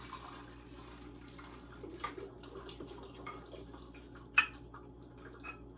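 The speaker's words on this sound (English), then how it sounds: "I am just going to pour it into my teapot" Simmered cauliflower cooking liquid is poured into a teapot, giving a soft, steady trickle with a few faint splashes and one sharper clink near the end. No one speaks.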